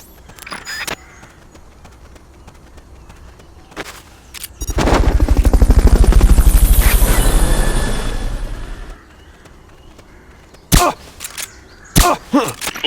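A Fulton recovery helicopter in the video game Metal Gear Solid: Peace Walker swells into a loud whooshing roar that builds, peaks and fades over about four seconds, framed by sharp clicks and gunfire-like bursts before and after.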